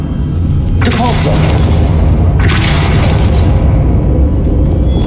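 Depulso spell blast in the video game Hogwarts Legacy, two loud booming bursts about a second and a half apart over heavy low rumble, with game speech present.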